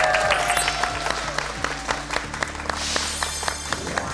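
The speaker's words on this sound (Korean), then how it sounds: "오늘 좋은 시간 만들어주신 우리 작가님께 박수 한번 부탁드리겠습니다" An audience of students claps for an emoticon character artist at the end of a talk. The applause is fairly dense, with sharp individual claps standing out, and fades slightly over a few seconds.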